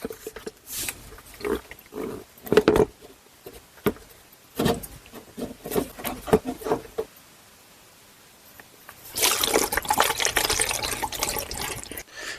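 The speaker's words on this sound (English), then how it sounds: "we'll just drain the remaining amount of this fuel out of here" Diesel fuel draining from the fuel filter housing of a 2024 Chevy Silverado 2500HD with the L5P 6.6 Duramax V8, sounding as intermittent splashing and trickling that ends in a steadier, louder pour.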